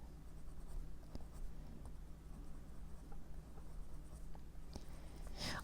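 Colored pencil shades on paper in soft, steady scratchy strokes, faint and close, over low room hum with a brief rustle at the end.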